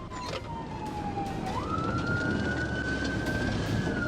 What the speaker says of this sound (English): prompting the trooper to activate emergency lights and siren and initiate a pursuit towards Savannah